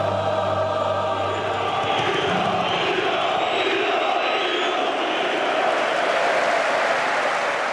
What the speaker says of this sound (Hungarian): A két csapat a rohamrendőrök feje fölött kántálja egymás felé a dalait.